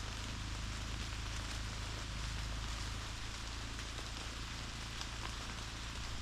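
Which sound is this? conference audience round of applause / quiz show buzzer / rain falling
rain falling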